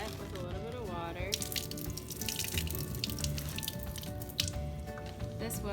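Water runs from a tap to wet a neoprene filter adapter at a lab sink, a steady splashing flow with small drips that continues the whole time, fairly close, under background noise.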